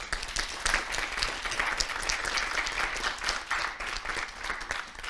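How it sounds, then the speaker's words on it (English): An audience at a research retreat wrap-up session gives a short burst of steady, dense applause close by, with no speech over it. "So a round of applause just for Alan."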